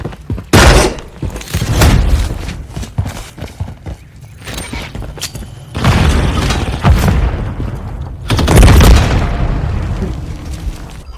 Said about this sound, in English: Place the charge. Detonate the target.